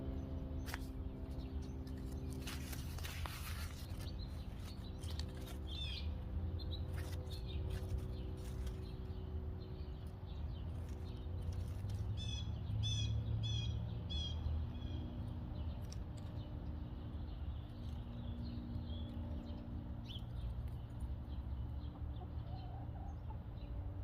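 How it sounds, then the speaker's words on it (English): Birds chirp and call outdoors on a spring day, faint and intermittent over a steady low background hum, with a rooster-like crow and clucking fowl somewhere nearby. "Hear all the birds chirping in the background."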